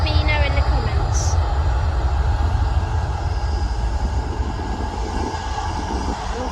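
Passenger jet taking off from London Stansted Airport, heard as a steady, loud broadband engine roar that holds throughout, with a brief higher tone near the start.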